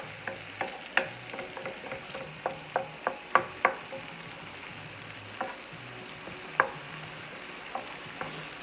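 Ground turkey or ground beef sizzles steadily in a pan on a stove, with a series of sharp spatula scrapes and stirring clicks over the frying, fairly close and without talk.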